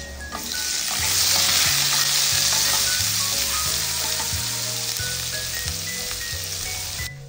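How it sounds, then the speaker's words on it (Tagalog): Garlic and then onion sautéing in a pan while cooking arroz valenciana, a steady close sizzle and crackle of frying running through the whole stretch. "Dito na rin ako magigisa ng bawang at pagkatapos, isusunod ko na rin naman dito yung sibuyas."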